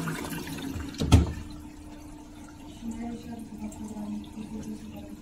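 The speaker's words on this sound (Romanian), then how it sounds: "vreau să mi se alimenteze prima oară toată cu apă ca să pot să o evacuez" Beko HTV8633 washer-dryer filling with water, a brief louder thump and splash early on followed by a steady low rushing of water into the drum, close and fairly quiet.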